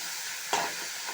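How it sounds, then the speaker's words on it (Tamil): Chayote sautéing with tomato and onion in a pan, a quiet sizzling background with one brief scrape or stir partway through. "1 நிமிடம் பொறுத்து நல்லா வதக்கி விட்டுருங்க."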